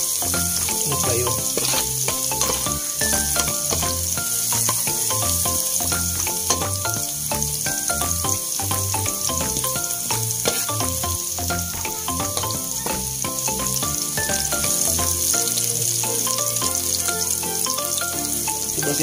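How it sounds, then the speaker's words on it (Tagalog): Minced garlic and onion fry in hot oil for chicken caldereta, producing a loud, dense, continuous sizzle and crackle close by. Occasional stirring scrapes sound under the frying. "Init na kayo atong mantika, napagong na atong sibuyas ug ahos"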